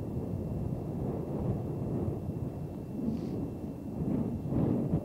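Strong, gusting wind buffets the microphone at a paragliding launch site at Torre Quezzi near Genoa, a continuous low roar that swells and eases in waves throughout, with no voices.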